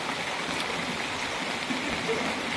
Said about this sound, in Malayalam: ഇതാ ഇവിടെയൊക്കെ വീട്ടിലേക്ക് വെള്ളം കയറിക്കൊണ്ടിരിക്കുന്നുണ്ട്.